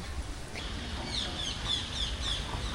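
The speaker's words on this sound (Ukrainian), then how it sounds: "Вон, чуєте, прилетіли папуги на пальму." Parrots call from a palm tree at an evening market in Thailand, a series of short, high chirps and squawks, moderately distant, over a steady background hum.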